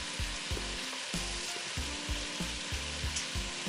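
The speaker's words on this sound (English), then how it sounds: "So we're just letting that saute," Ingredients for a creamy chicken noodle soup sauté in a pot with a steady, close sizzle and frying crackle, accompanied by rhythmic low thumps of stirring throughout, no voices.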